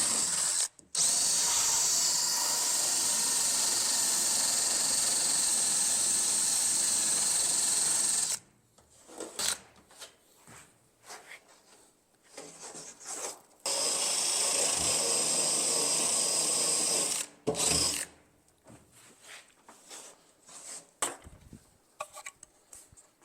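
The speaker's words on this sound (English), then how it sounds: "Now I get the drum sander, put it on my drill, wipe this down." A drum sander fitted on a power drill whines loudly in two long bursts against a surface during a NASCAR Toyota Supra fuel cell installation, with quieter tool clatter and handling noises between them.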